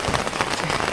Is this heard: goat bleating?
no